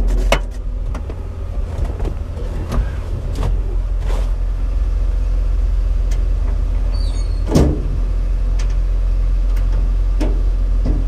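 On a 1989 Mitsubishi MiniCab 550cc kei truck, the bed is closed with a few scattered knocks and one sharp clunk over a steady low engine idle.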